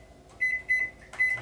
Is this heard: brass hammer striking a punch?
no